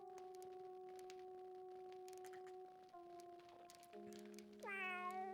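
A cat meows in the game Star Trek Judgment Rites, a rising, wavering cry heard near the end over steady synthesized game tones and a soft background hum.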